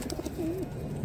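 Homing pigeons of the Muehlmann sport breed at a pigeon fair give a single close, low gurgling coo over a busy background hum, with a few faint soft calls just before it.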